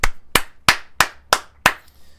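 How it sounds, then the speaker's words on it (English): Six sharp, evenly spaced claps ring out alone, a single person clapping at a steady rhythm. "People, round of applause for Trinity."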